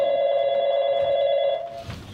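A telephone bell ringing in one sustained, loud electronic trill lasting about a second and a half, then cutting off into quiet room noise.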